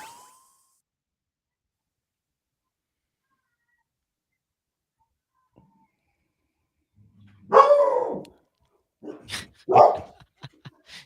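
A dog barks and howls nearby after a long stretch of near silence, a drawn-out howl-like cry followed by a few sharp barks and another howling call, moderately loud and alone.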